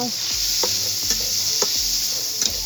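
Chorizo browns in a hot pan with a steady close sizzle, broken by repeated scraping stirs of a utensil against the pan.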